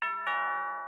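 A single bright electronic bell chime rings out, a clean ding-dong tone struck twice in quick succession and left to decay smoothly, close and clear with nothing else behind it.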